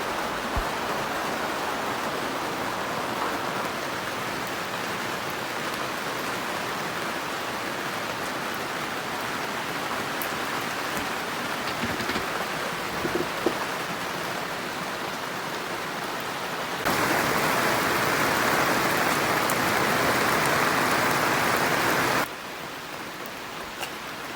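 Steady, dense rain pattering on a boat, constant and close, growing louder for a stretch near the end before easing back; no voices.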